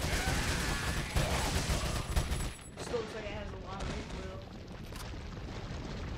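Rifle gunfire in Resident Evil 4, dense loud shots and booms for about two seconds, then a quieter stretch with softer scattered noise and faint game sounds.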